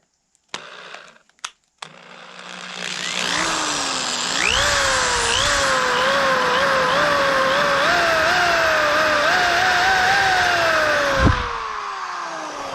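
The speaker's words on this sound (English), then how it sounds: "I'm going to take a drill with a 1/16 drill bit." Power drill fitted with a 1/16 inch bit boring into a powder horn, a few short taps first, then a loud close whine that rises and wavers in pitch as the motor loads, running steadily before stopping.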